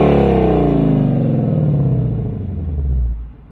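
From outside, a 2018–2023 Ford Mustang GT with an active valve performance exhaust in sport mode gives a loud, deep rev that holds, then drops into a burbling rumble before cutting off.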